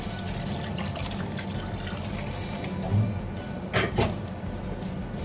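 Water poured into a cooking pot for salmon sinigang, a continuous splashing, gurgling pour under faint kitchen noise, ending with a couple of sharp knocks of the pot or container.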